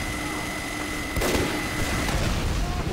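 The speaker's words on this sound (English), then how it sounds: "There's grenades coming in everywhere!" Grenade explosions in the video game Team Fortress 2, with a loud burst of crackling blasts arriving partway through over continuous game noise and a steady tonal hum, followed by further rumbling impacts.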